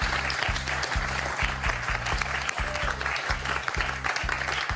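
A studio audience on a French quiz show applauds a contestant, with steady, full clapping throughout and a rhythmic musical beat underneath.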